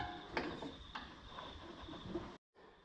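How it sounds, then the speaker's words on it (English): A ratchet wrench works at a bolt on a Ford XF Fairmont engine during a belt change, giving a few faint mechanical clicks and scrapes with quiet clatter, then a brief drop to silence. "if I jump up here with this ratchet, hopefully I can crack this bolt I'm looking for"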